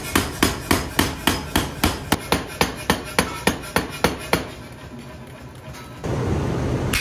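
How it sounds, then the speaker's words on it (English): Heavy sledgehammer blows ring out on a flatter held on iron in a steady rhythm, about a dozen sharp strikes, then stop, leaving quieter blacksmith workshop noise. "we just chose to use a flatter and have a striker hit it with a sledgehammer"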